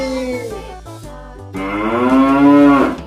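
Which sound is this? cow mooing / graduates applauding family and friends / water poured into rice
cow mooing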